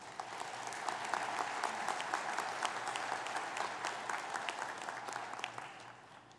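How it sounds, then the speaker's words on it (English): Steady applause from a graduation audience honoring an absent staff member, a soft, even wash of many hands clapping at a moderate distance with no voices. "I think we should give her a round of applause in her absence."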